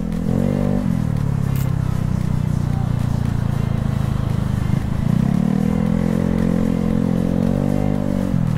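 Steady engine drone of motorbikes and dense night traffic rolling past nearby in Makassar, with revving rising and falling throughout; no clear speech.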